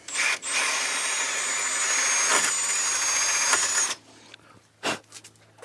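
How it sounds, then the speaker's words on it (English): A power drill bores a quarter-inch hole for the mounting spike of a Tigress 9-inch rod holder, whining steadily and loudly for about four seconds before stopping, followed by a few faint knocks. "We're just going to drill our hole for the spike 1/4 inch at the same angle"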